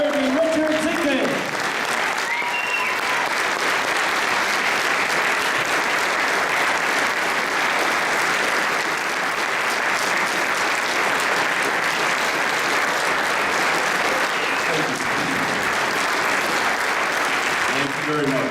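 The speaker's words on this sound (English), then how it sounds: "let's give a nice round of applause to the 31st Mayor of the City of Derby, Richard Zinkman" A crowd at the 2017 inauguration of the 31st Mayor of the City of Derby breaks into sustained, loud applause that holds steady for a long stretch and fades near the end, with a voice heard briefly at the start.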